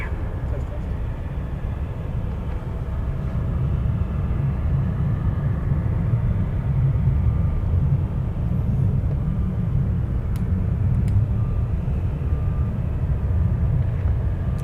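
An Alaska Airlines jet lands on runway 7 right at Anchorage. Its low, steady engine rumble holds fairly loud and constant from a distance throughout.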